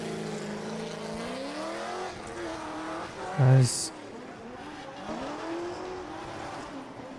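Supercharged V8 Nissan Silvia S15 drift car launching at a drift championship round, engine droning with rising and falling pitch beneath ongoing commentary, with one short loud burst midway.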